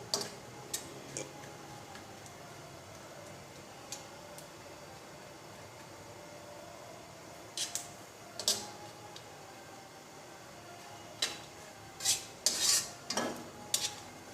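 Semolina halwa with milk being stirred and roasted in an iron wok (kadhai): quiet, sparse scrapes and metallic ticks of a spoon against the pan, clustering into a few quick strokes near the end.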